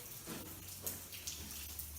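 Rainwater leaks over the top of a brick wall and drips down it, giving faint, scattered drips and trickles against a low background hum.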